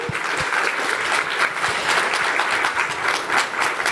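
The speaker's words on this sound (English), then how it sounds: "Please give him a Round of applause." A film festival crowd at OKCine applauds director Marcelo Cisneros after his college short film, producing loud, sustained, even clapping from many hands that fills the room without a break.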